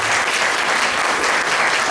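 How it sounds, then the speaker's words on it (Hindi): Sustained audience applause at a national seminar in Patna, a dense even clatter of many hands clapping continuously and fairly loud for the whole stretch, with no voices over it. "मैं चाहता हूं कि इनके लिए एक बार जोरदार ताली"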